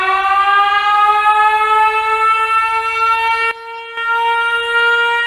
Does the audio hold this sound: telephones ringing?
no